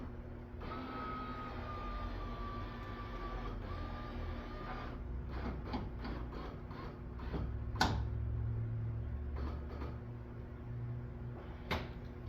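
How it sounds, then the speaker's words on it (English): Power window motor raising the door glass in a third-generation F-body car, a steady faint whine under soft ticking and clicks, then a few sharper knocks as the glass reaches the seal, close with no talk. "We'll raise our window."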